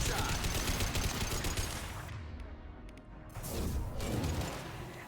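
A high impact gunshot fires in a video game amid dense, noisy combat, with heavy crackling bursts, a brief lull and then renewed rumbling impacts.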